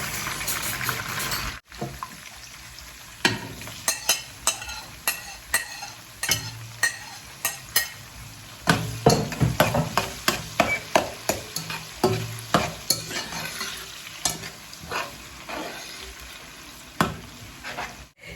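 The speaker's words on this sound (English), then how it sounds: "So our salted fish and onion is fried nicely" Salted fish and onions frying in a pan for a garden egg stew, a steady sizzle broken by frequent sharp scraping stirs of a utensil against the pan, fairly close and loud, with no talking.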